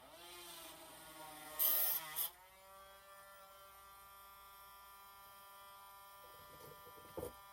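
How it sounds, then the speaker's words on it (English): A small electric drill bores a pilot hole into a Märklin Z-scale model railway layout, a high steady whine that spins up, holds for several seconds and winds down, with a brief louder burst near the start and no talk. "So first thing we're going to do is drill a pilot hole."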